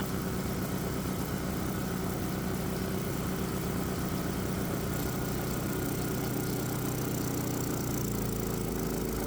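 A 212 cc Predator gasoline engine with port fuel injection drones steadily under heavy load, a continuous rough mechanical hum with no pauses, close and fairly loud.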